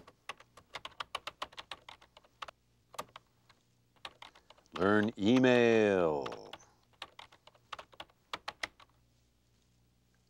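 Computer keyboard typing a to-do list on an early home computer, steady rapid clacking keystrokes close up, broken briefly by a man's spoken words midway.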